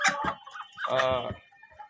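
Adult Bahama chickens on a poultry farm cluck and squawk close by in a few short bursts, one longer drawn-out call in the middle.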